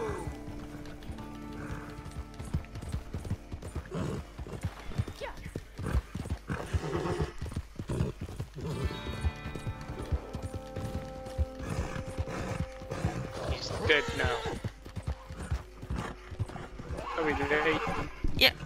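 In Red Dead Redemption 2, a horse gallops with rapid, rhythmic hoof clip-clops and lets out neighs, while a player talks over it and light mechanical clicks mix in.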